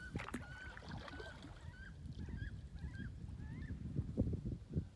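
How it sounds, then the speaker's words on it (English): A wood duck flying off along a creek, giving a series of thin, rising squealing calls in a rhythmic run, fairly faint over low rumbling and knocking nearby. "that was a wood duck that had their own distinct sound, and there's no denying what it is when they fly off"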